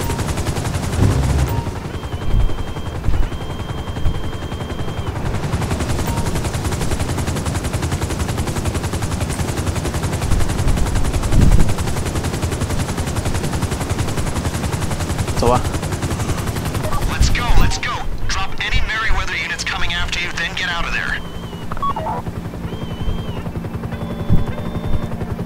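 Rapid automatic gunfire in GTA 5, aimed at a helicopter, rattles loudly and nearly nonstop for most of the stretch. After it stops, other game effects and speech take over.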